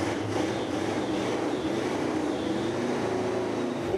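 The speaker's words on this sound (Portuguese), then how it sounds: "Escuta só o ronco desse motor." A classic car's Ford Windsor 302 V8 engine rumbles steadily and loudly at close range, a continuous deep drone with no speech.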